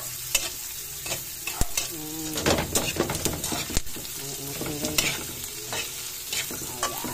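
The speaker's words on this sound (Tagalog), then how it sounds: "Ang bango ng sibuyas at bawang. Ayan, halo-halo natin." Onion and garlic sizzle steadily in a hot pan while a utensil stirs and scrapes through them. Several louder clanks against the pan stand out from the constant frying hiss.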